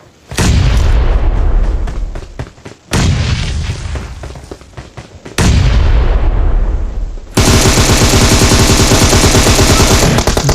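Grenade blasts and gunfire in PUBG Mobile: three loud booming explosions each decaying into rumble, followed by a sustained rapid burst of automatic fire, all close and dominant with no talk.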